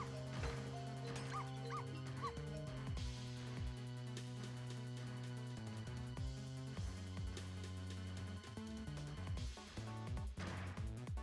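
A small Pomeranian dog in the video game Ghost Trick barks and yips repeatedly over continuous game music, the yaps fairly faint and mixed into the soundtrack.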